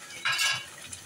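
Spices for a desi chicken korma being fried and stirred in a pan, a short scrape and clink of a spoon against metal with a soft low sizzle, close and alone.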